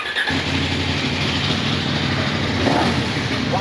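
A Bristol KOVE 800X motorcycle, its liquid-cooled two-cylinder dual-overhead-cam engine catching after a short start, then holding a loud, steady throbbing idle close by.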